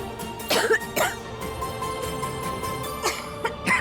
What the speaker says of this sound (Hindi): अचानक से इतनी खांसी क्यों आने लगी?